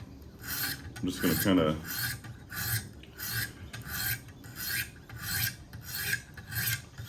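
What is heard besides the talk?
sharpening Emerson by Kershaw knife on Wicked Edge sharpener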